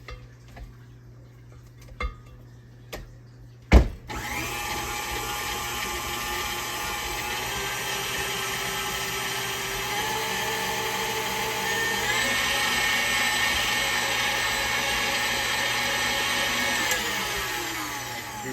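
An electric stand mixer churns oatmeal chocolate chip cookie dough with a steady, continuous whir; the motor pitch climbs partway through and holds there, with a few faint clinks before it starts.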